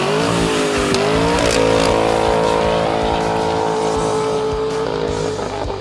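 A 2015 Mercedes E-550 with a 4.7 twin-turbo engine and Kinney's Tunnel Ram performance exhaust, revving loud and close in a steady, deep drone that climbs and holds with shifting pitch.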